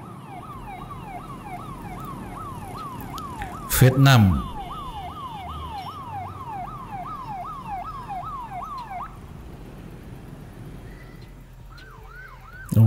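A wailing ambulance siren sweeps up and down in rapid repeating cycles on a Southeast Asian road, moderately loud, with a brief louder burst of traffic noise partway through.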